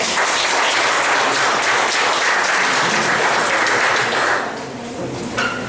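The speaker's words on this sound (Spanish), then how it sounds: "Un aplauso, por favor." Loud, close audience applause at a school panel discussion on conflicts in educational and government institutions, steady clapping for about four and a half seconds before fading into a few scattered claps.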